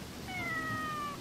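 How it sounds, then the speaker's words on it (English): A single drawn-out cat meow from the video game Sakuna: Of Rice and Ruin, clear and fairly soft, rising then sliding gently down over about a second against quiet background. "Oh, it's a cat!"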